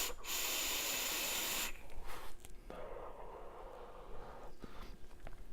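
Air draws through a Dead Rabbit vape atomizer in a steady, close hiss for about two seconds, followed by quieter, broken puffs and breaths.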